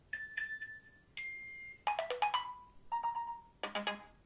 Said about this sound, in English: They have updated the alert tones.